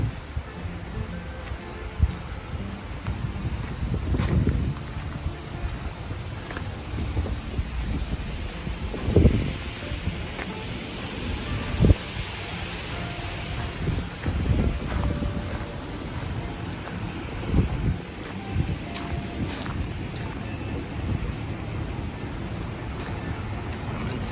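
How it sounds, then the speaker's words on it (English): Breezy wind at a Gettysburg camping resort campsite, a steady close rush and buffeting against the microphone with occasional louder gusts and thumps, no talking. "A little breezy today."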